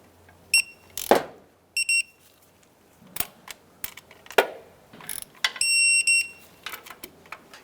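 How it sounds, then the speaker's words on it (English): Torque wrench clicking and ratcheting as two thermostat housing bolts are tightened to 89 inch-pounds on a 2004–2012 Chevy Colorado, with sharp close mechanical clicks and short ratchet bursts in irregular groups. "I'm going to go ahead and torque these 2 bolts down to 89 inch-pounds."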